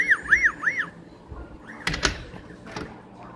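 A BEBASIA keyless entry door lock with lever handles sounds an electronic alarm when it fails to lock: three rising-falling warbling tones, followed by clicks and rattles of the lock mechanism.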